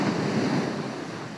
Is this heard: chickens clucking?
no